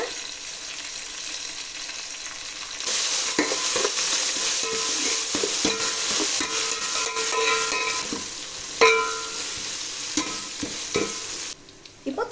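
Green chillies and ginger garlic paste fry in a pan for paneer biryani, giving a steady loud sizzle broken by stirring scrapes, with no talk.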